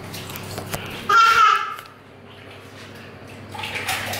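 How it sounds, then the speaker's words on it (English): Young girls babble and splash in a bath, with a burst of lively child vocalizing over sloshing water, then quieter water movement and more chatter. "But the girls are in the bath, being little cheeky nuts."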